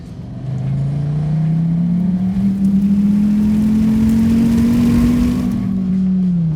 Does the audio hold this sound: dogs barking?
no